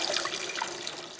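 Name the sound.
hot water poured over a duck to crisp the skin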